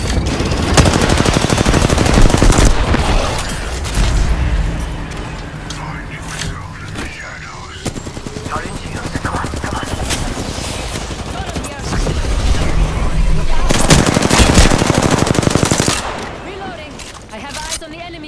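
Video game gunfire aimed at enemies comes in dense rapid bursts, with loud sustained automatic volleys at the start and again later, separated by quieter stretches where voices talk under scattered shots.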